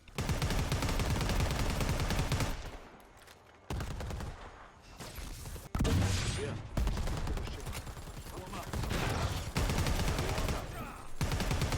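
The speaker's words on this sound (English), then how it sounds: "The gun feels really good to shoot. Sounds amazing." Gunfire from a weapon in the video game Predator Hunting Grounds, Dutch DLC, comes as loud sustained bursts with short gaps between volleys, mixed with game sound effects.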